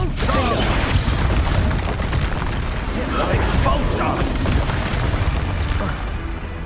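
Blasting-spell explosions and combat effects in Hogwarts Legacy: loud, booming bursts layered over busy, crackling battle noise, with a voice speaking amid the din.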